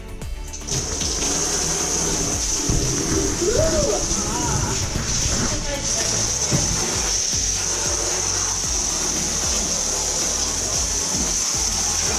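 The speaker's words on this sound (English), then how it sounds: "Sydney has got the hose in her hand" A hose sprays water across the floor of a bus being converted into a tiny home during rust removal, a continuous loud hiss and rush with splashing, and voices talk over it.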